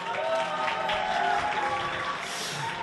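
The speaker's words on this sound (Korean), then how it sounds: "더 큰 박수 부탁드립니다" Applause from a Korean culture-and-arts forum audience greeting a professor on stage, a dense, steady wash of clapping that stays loud throughout with no voices on top.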